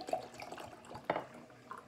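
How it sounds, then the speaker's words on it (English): Water poured into a cup over tea concentrate, a quiet irregular trickle with small splashy drips and one brief louder splash partway through. "And then you just go ahead and fill it up with water"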